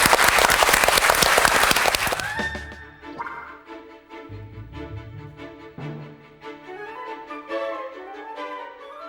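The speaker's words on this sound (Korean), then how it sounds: "여러분 큰 박수 보내드리겠습니다" Studio audience on a Korean TV antiques appraisal show applauding loudly for about two seconds, then the clapping gives way to a quiet music sting.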